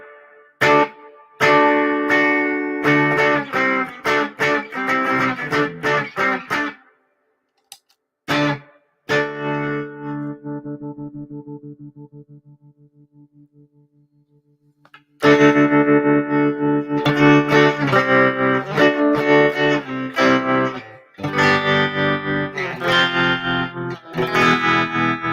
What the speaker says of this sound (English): here's the box's just built-in, really nice sounding reverb